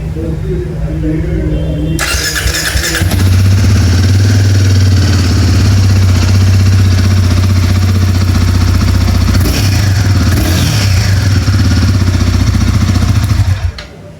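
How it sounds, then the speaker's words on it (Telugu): A new 2026 Royal Enfield Guerrilla 450 Apex in black cranks and fires up, then settles into a loud, close, steady exhaust idle with a deep, even throb that runs on for over ten seconds. "ఇంకా ఈ బైక్ ఎగ్జాస్ట్ డిజైన్ చూడటానికి ఎలా ఉంటుంది షార్ట్గా ఒకసారి సౌండ్ వినండి"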